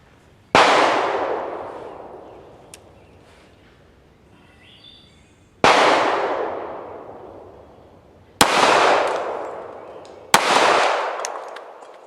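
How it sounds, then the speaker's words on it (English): Four loud .45 ACP pistol shots fired at a cabbage outdoors, each a sharp crack with a long rolling echo, spaced a few seconds apart, with faint birdsong between them. "we're going to see how that 45 ACP affects the cabbage"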